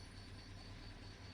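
Airplane flying overhead in The Long Drive video game, a steady low droning engine hum with a faint whine above it, continuous and even, with no talk.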